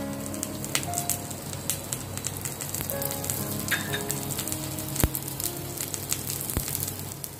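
Wheat flour tacos sizzle in ghee on a pan, a dense, steady crackling fry with scattered sharp pops, close and even throughout, with no speech.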